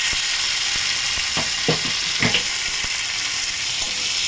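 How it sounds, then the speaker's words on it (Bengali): Chopped tomatoes and onion fry in a pan for a pomfret fish curry, with a constant close sizzle broken by a few sharp scrapes and taps of a spatula. No one speaks. "এটাও ভালো করে ভেজে নেবো।"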